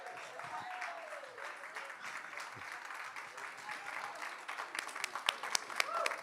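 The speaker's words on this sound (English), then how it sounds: "You've been applauded by John Lodge." An audience claps steadily in a hall during a live comedy show, the applause continuous and fairly close, with scattered sharper claps and a few whoops rising toward the end.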